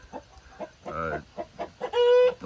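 Meat chickens raised from incubated eggs cluck in a short run of close, clear calls, with one longer drawn-out squawk near the end.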